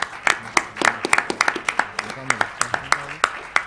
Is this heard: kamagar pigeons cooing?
no